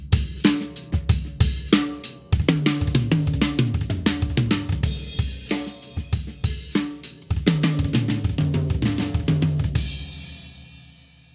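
On a drum set, the single drag tap rudiment sounds as loud, crisp strokes in quick repeating groups across the kit, with cymbal wash throughout and one ringing cymbal tail at the end. No one speaks.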